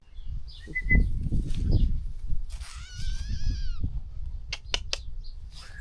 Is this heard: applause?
no